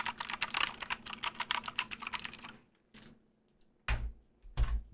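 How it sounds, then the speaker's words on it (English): Quick, close clatter of keystrokes on a computer keyboard for about two and a half seconds, then a near-silent pause broken by a couple of isolated louder key presses. "I get so much joy out of typing on this thing"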